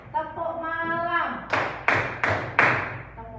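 A primary school class does a clap routine: voices chant together, then four sharp, evenly spaced group claps ring out, loud and close, followed by a brief voice.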